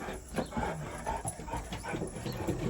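Dog making soft panting and whimpering noises close by, irregular breathy bursts with light scuffling and no speech.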